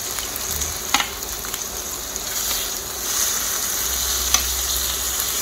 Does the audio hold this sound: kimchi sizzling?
yes